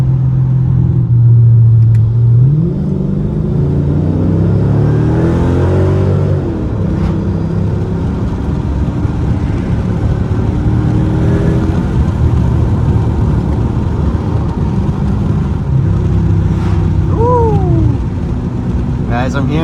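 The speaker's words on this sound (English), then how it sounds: "I hope the video is picking up the exhaust, but this just has a muffler delete." Mercedes W211 E55 AMG V8 with a muffler delete and stock transmission and ECU, a loud deep exhaust rumble inside the car with rising revs early, a steady drone, and brief pops later.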